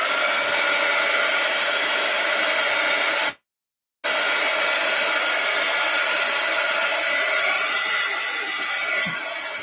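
A hair dryer drying an art journal page runs as a steady, loud blowing hum throughout, cutting out briefly for about a second before starting again.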